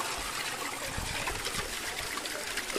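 Cold water from a small mountain stream trickling and burbling continuously close by, steady and alone without talk.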